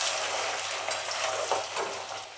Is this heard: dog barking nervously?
no